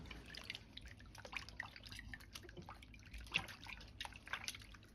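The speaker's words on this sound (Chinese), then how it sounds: "然後和杏鮑菇、小蔥一起放入水中清洗乾淨" Carrots, king oyster mushrooms and scallions being rinsed in a basin of water in a home kitchen, giving soft, faint splashes and scattered drips at an irregular rhythm, quiet and close with no voices.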